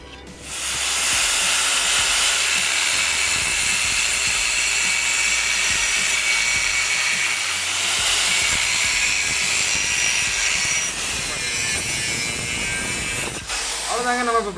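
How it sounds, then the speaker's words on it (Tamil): A gas cutting torch roars in a loud, continuous hiss as it cuts a steel flange, holding steady for over ten seconds before the flame cuts off abruptly near the end. "அவ்வளோதாங்க, நம்ம இப்போ பிளாஞ்சை கட் பண்ணி எடுத்தாச்சு."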